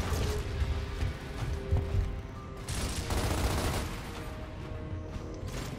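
Turret gunfire in the video game Gears of War Ultimate, loud rapid bursts of automatic fire with mechanical clanks and creaks between them, broken by a short lull partway through.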